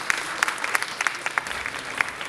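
An audience breaks into applause at the close of a speech at a trade week event in Nairobi, Kenya, steady scattered clapping heard alone at moderate level.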